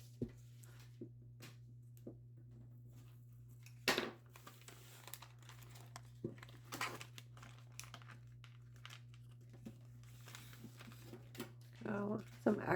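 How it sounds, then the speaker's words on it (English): Contact paper crinkling and rustling as it is smoothed over a bottle for a Halloween yard display, with scattered close crackles over a steady low hum, and a person talking at times. "And now I'm going to put the contact paper"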